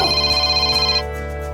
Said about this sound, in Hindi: कौन फोन कर रहा है इस टाइम पे?